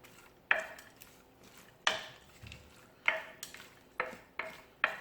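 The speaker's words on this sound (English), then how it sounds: "And we're just going to stir this to mix it up a little bit." Metal spoon stirring collard greens with bacon in a cooking pot, sharp clinking scrapes repeating roughly every second, close and fairly loud with quiet gaps between strokes.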